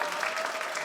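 Brief burst of crowd applause, a steady wash of clapping hands without pause.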